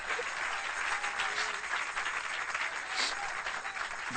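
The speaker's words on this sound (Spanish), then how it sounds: "Dale un aplauso al Señor" A church congregation applauds, a soft, muffled, steady wash of clapping heard at a distance, ending with a brief sharp bump.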